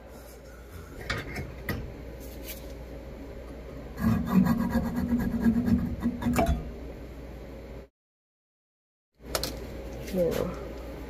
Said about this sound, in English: I'm going to leave a little bit of a nub on the bottom to sand off by hand